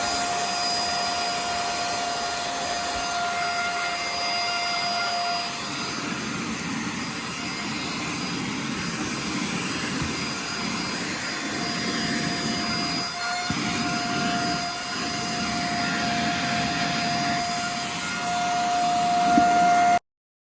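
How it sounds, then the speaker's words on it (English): A vacuum cleaner whines steadily at close range for about twenty seconds, its high-pitched motor tone unbroken apart from slight shifts in pitch. "we're going to use a little vacuum power to complete this task."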